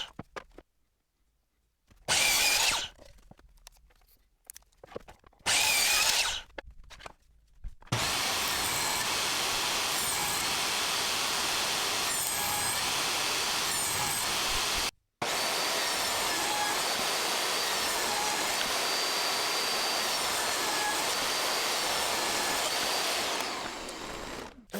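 A power saw cutting wood into four pieces for a gift box: two short loud bursts, then a long steady whine of cutting with one brief pause, close and with no talk.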